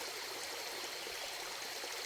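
A mountain waterfall and stream rush steadily in an even, broad hiss of flowing water, close and continuous, with no voices.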